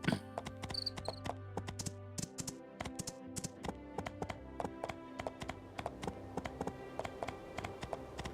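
A horse's hooves clip-clop in the farming game My Time at Portia, a quick, even run of sharp clacks over a soft musical backdrop, close and moderately loud.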